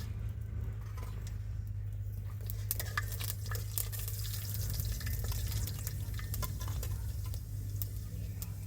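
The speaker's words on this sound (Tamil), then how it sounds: "எண்ணெய் சூடாயிடுச்சு தாளிக்க வெந்தயம்" Soft, steady sizzling of fenugreek seeds frying in hot oil, with scattered small pops and crackles over a low hum.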